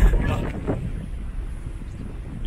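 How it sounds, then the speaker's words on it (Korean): Strong wind on the deck of a cruise ferry between Donghae, Korea, and Sakaiminato, Japan, buffets the microphone in a heavy, rushing roar over a low rumbling engine drone, loud and constant. "바람 소리가 진짜 대단한데"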